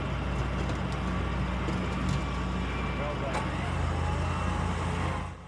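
Mitsubishi Pajero 4WD being recovered on a hillside with the help of other vehicles, its engine a steady low drone alongside a further running vehicle, holding fairly loud and continuous for several seconds.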